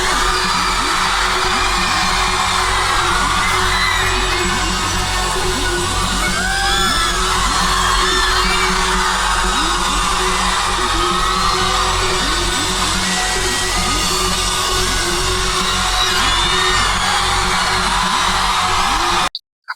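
Fans scream and cheer continuously at a concert, a loud, dense wall of crowd noise that holds steady for about twenty seconds before cutting off abruptly.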